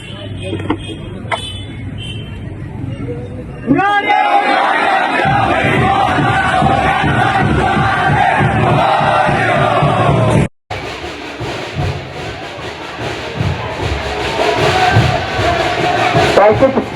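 Crowd at a Ganpati immersion procession in Konkan, a loud dense roar of many voices and shouting that swells suddenly and continues, briefly cut off before resuming.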